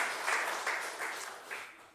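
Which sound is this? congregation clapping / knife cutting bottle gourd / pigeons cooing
congregation clapping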